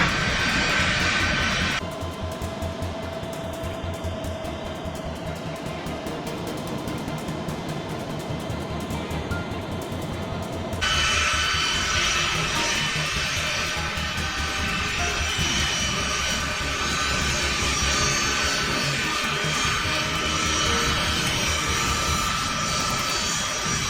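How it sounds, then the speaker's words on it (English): Military jet transport engines roar during a takeoff run, a loud, steady, broadband rumble that lasts throughout with a shift in tone partway through, and no talk is heard. "F-117 engines roar to life, vibrating through the entire airframe."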